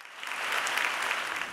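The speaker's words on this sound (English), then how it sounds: "A big round of applause welcomed all those attending." Steady round of applause from attendees welcoming guests at a Tzu Chi volunteer ceremony in Malaysia, a dense even clatter of many hands sustained throughout, slightly distant.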